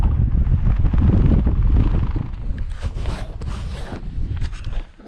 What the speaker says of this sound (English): That wind up there was brutal, absolutely brutal.